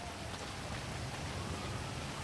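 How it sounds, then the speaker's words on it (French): Rain falls over a city in the video game GTA 5 Online, a faint, even hiss of steady rainfall with no break and no one speaking. "Il y a une jolie ville sous la pluie."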